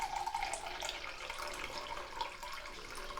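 Lukewarm water runs steadily from a kitchen tap while being measured out for bread dough, a continuous close splashing hiss with no voices.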